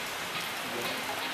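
Steady rain pours at a mountain base camp on Mount Lawu via Candi Cetho in the evening, a dense continuous hiss of drops striking surfaces close by, with no voices.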